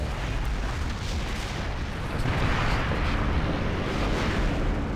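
Industrial buildings are being demolished in SimCity 4, heard as a dense, continuous rumble of crashing debris and booming collapse. It fills the whole stretch and swells slightly louder partway through.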